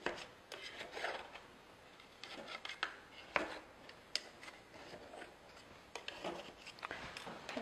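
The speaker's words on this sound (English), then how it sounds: "Just take either a knife or a flat edge spatula like this. Just run it around the inside, so it releases from the sides easily." A knife or flat-edged spatula scrapes around the inside of a pound cake pan, making soft irregular rubbing and scraping strokes broken by a few sharp clicks against the metal, close and quiet with no talk.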